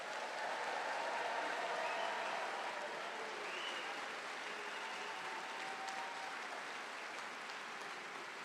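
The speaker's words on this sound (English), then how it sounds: "Let's give them a big round of applause." Sustained applause from an audience at an NC State College of Engineering graduate recognition ceremony, a dense steady patter of clapping that holds across the whole stretch before easing slightly, with no talk over it.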